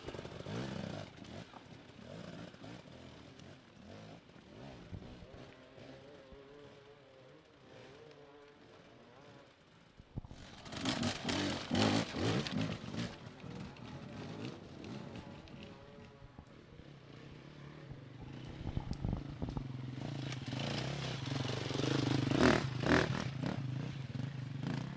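A Eurotek KTM motorcycle ridden by Sam Winterburn in the Pro Class of an extreme enduro race, its engine revving and labouring over rough ground, quieter at first and then louder and closer with clattering and scraping, with faint talk underneath.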